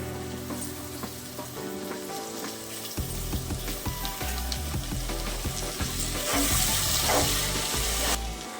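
Mint leaves frying in hot oil in a pan for quick garlic rice, a dense, steady sizzle close by that swells louder and harsher partway through, with stirring clatter and no talking.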